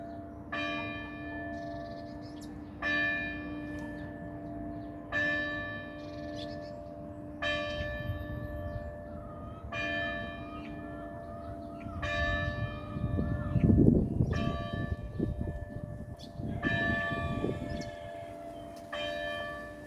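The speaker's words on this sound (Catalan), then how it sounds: "Que bonic el so de les campanes, oi?" Church bells ring out in a slow, steady series of clear strikes about two seconds apart, each leaving a lingering resonant tone. A soft low rumble rises in the background partway through.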